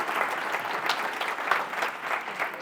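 An audience claps after a talk, a steady round of applause at moderate distance, with dense overlapping hand claps lasting throughout.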